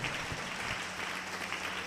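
A church congregation claps together in a steady, dense patter of hands, sounding somewhat distant and subdued.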